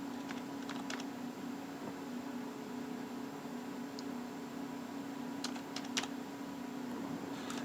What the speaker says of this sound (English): What I'm going to do is go down here and I am going to type in hard drive.